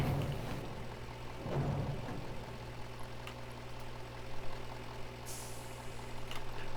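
A truck engine idles in the SpinTires video game, a steady low rumble that runs throughout with a brief hiss near the end, like an air brake releasing.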